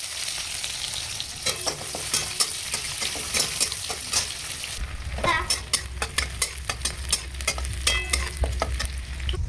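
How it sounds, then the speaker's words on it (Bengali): Onion frying and being stirred in a wok of hot mustard oil with whole cumin and bay leaf, a steady close sizzle with repeated scraping clicks of a spatula that grow sharper and more rhythmic in the second half. "তো প্রথমে আমি কড়াই তেল দিয়েছি, সর্ষের তেল, তারপরে তোমার জিরে, গোটা জিরে আর তেজপাতা, এই যে পেঁয়াজ দেবো।"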